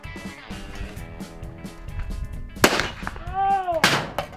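A lever-action Rossi 92 rifle fires twice outdoors at an aerial paint can target, two loud, sharp cracks about a second apart, with a bright ringing tone after the second shot and voices nearby.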